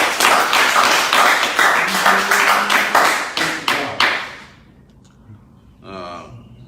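Crowd clapping after a donor's contribution is announced during a live broadcast, a dense burst of many hands lasting several seconds before dying away, followed by a short voice.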